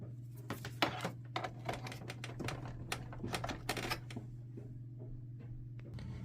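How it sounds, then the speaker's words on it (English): A Canon MG3620 inkjet printer starts up after being plugged in, its mechanism clicking and ticking in quick rapid bursts over a low steady hum, then settling into quieter intermittent whirring. "Now we can plug the printer in."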